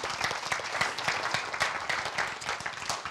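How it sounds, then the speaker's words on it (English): A short burst of audience applause at a real estate agents' summit, many hands clapping steadily at moderate volume, with no talking over it. "Round of applause for Peter."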